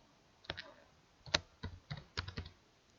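Someone types on a computer keyboard while entering text into an Excel spreadsheet, a few quiet scattered key clicks and short bursts of keystrokes, close and alone.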